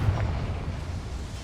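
A Confringo spell blast in the video game Hogwarts Legacy, a brief low booming burst that rumbles heavily and fades over about a second.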